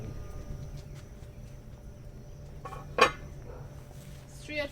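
A lid clinks onto a pot of Jamaican salt beef and red peas soup with one sharp metallic clank near the middle and a softer rattle at the end over low kitchen hum.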